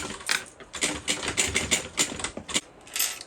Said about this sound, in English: I'm just going to sew along the top here.